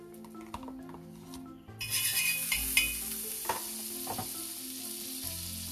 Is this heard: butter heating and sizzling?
yes